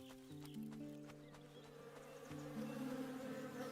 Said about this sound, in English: I hear you, bees. I hear you.